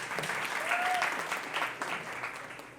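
Audience applause at a talk on mental health, a dense sustained clapping from a crowd filling the room, fairly close and steady throughout, with a brief voice or whistle-like tone rising over it.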